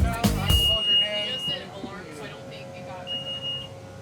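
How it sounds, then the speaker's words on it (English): An alarm on a boat at sea gives a thin, high electronic beep, first held for about a second and then repeated later, under a person talking and other noise. "We're getting an alarm, so we gotta check it out."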